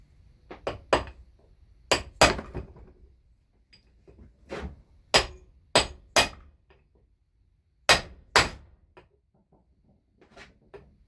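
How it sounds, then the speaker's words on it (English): A hammer peens over the stripped head of a bike screw: sharp metallic strikes, close and loud, come singly and in quick pairs with short pauses between. "I peened it over till it closed up"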